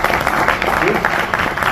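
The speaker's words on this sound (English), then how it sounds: "So one more round of applause for him." An audience at a calligraphy exhibition and seminar in Bengaluru claps in a brief, dense round of applause, loud and continuous from start to finish.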